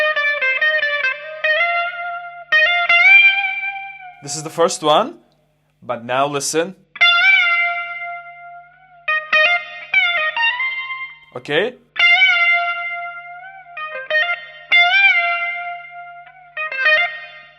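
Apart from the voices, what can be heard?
electric guitar string bend with sustain, guitar solo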